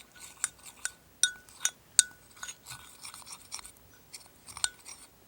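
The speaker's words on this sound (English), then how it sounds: "And you stir all of that together." Homemade bronzer mix being stirred in a small container, giving soft scraping with light clinks and taps at an irregular pace, quiet and close.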